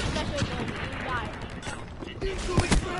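Rapid bursts of gunfire from the Call of Duty video game, including shotgun blasts, crackle throughout with mechanical clicks and reloading clatter mixed in.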